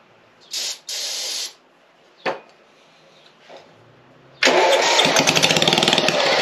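A lawn mower engine is cranked with a couple of short hissing bursts of spray, then catches and starts, running loud and close with a rapid pulsing beat.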